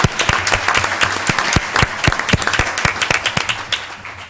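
An audience at a town board meeting claps for a steel band, a dense burst of close handclaps that continues for several seconds before thinning out.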